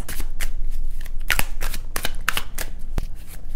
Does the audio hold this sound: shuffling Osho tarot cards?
yes